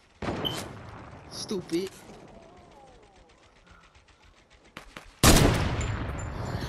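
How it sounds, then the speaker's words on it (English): Sniper rifle fire in the video game Fortnite, two sharp, loud cracks a few seconds apart with rolling gunfire around them, while a player mutters briefly between the shots. "Where are my shots going? I feel like something's wrong with my sniper."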